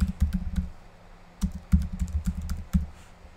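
Computer keyboard typing in bursts of quick keystrokes, close and fairly loud, with short pauses between runs while entering a plugin search in WordPress.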